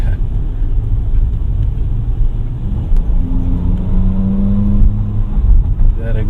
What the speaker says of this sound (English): That exhaust note alone.